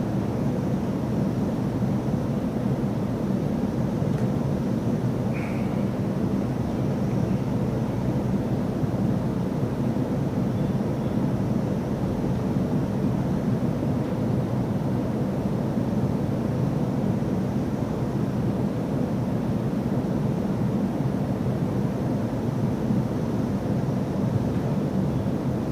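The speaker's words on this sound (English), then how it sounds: "fan has ceased operation, and the air-cooled hugger over there stopped first in just a matter of seconds" A Hunter Passport II ceiling fan runs with a constant, dense whooshing rush of air and motor noise, loud and unchanging throughout, with no voices.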